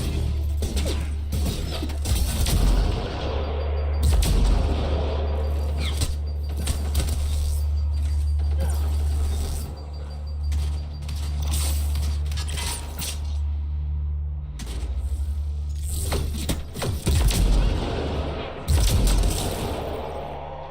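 Weapon fire in the sci-fi video game Mass Effect: Andromeda, sharp cracking shots and impacts popping in irregular bursts over a droning low rumble, loud and close throughout.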